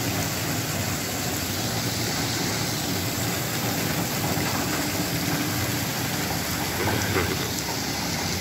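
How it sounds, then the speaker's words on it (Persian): Spring water pours steadily into a livestock tanker in the mountains, a loud, unbroken rushing hiss that holds evenly from start to finish with no voices. "ببین آب به راحتی میاد داخل تانکر میریزه"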